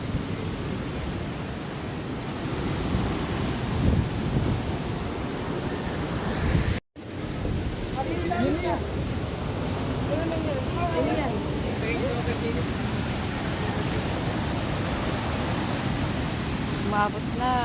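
Floodwater waves surging through a flooded village where homes are being reached, a steady broadband wash of rushing water, fairly loud and continuous, with faint voices and brief chirps mixed in.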